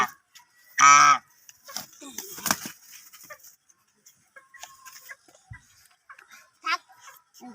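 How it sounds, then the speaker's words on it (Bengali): A domestic goose gives one loud, close honk near the start, followed by softer scattered honks and calls, with a few brief quieter sounds between them. "আমার রাজা হাঁস এটা হচ্ছে মায়া হাঁস"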